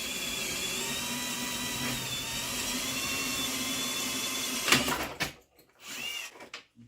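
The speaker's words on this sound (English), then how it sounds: "So if I can drill out one side," A drill bores steadily into a bolt on a car steering rack in a garage, a continuous whining grind for several seconds that stops abruptly, followed by brief clunks and a short scrape.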